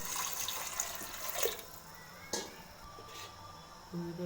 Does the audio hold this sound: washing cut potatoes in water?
yes